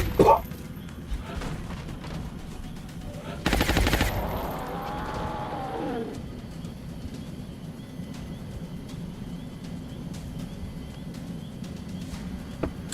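Gunfire in XCOM: Enemy Within with the Long War mod: a sharp shot at the start, then a loud sustained burst with a descending whine trailing off, followed by quieter game ambience.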